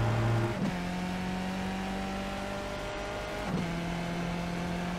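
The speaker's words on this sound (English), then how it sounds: "It's my gear change." Race car engine note in iRacing, holding a steady high drone and dipping twice as upshifts cut in before settling at a new pitch, close and continuous with no voices.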